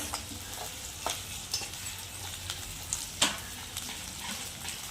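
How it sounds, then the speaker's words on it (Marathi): Onion frying in a pan over a wood-fired stove, a soft steady sizzle with scattered scraping stirs and a few sharper clinks, moderately quiet and without talk. "कांदा परतून घेतो जरा. कांदा थोडासा शिजू द्या."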